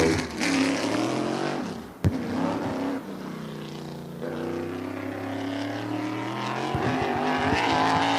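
Race cars roar around a speedway oval as the green flag drops at the Turkey Derby at Wall Stadium, a dense, loud engine drone that swells and passes continuously, with one sharp click partway through.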